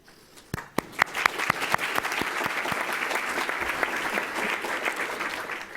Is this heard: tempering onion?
no